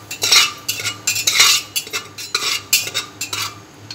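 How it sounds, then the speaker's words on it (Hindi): A spoon stirs salt and chili powder through popcorn in a metal pan, producing rapid rhythmic scraping and rattling clinks, close and fairly loud, with a faint low sizzle beneath. "ये डालकर हम इसे हल्का सा मिक्स कर देंगे"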